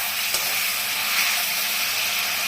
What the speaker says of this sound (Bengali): মশলাটা তেল ছেড়ে দিয়েছি মশলা দিয়ে পুরো একটু নাড়াচাড়া করে